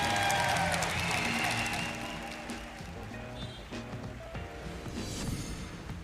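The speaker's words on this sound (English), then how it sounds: "And the crowd goes absolutely wild for their first ever Pokemon Go World Champion." A large crowd at the 2022 Pokemon Go World Championship finals cheers and applauds for the new champion, a dense, loud wash of clapping and shouting that eases slightly midway and swells again near the end.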